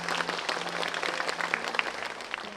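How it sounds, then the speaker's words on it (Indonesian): A brief round of audience clapping, a lively, moderately loud patter of many hands over a faint steady hum, lasting only a couple of seconds. "Kita berikan tepuk tangan."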